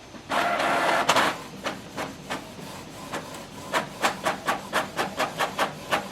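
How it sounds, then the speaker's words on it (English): A Canon Pixma TS5320a inkjet printer runs a test page, starting with a loud whirring feed and then a series of rhythmic mechanical clacks and swishes as the print head sweeps back and forth, close by and with no speech. "So click OK to print it and it will make sure like the printer is connected and it's working."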